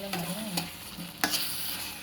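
A spoon stirs carrot halwa in a pan, soft scraping strokes that come in short bursts over a low sizzle, close and fairly quiet.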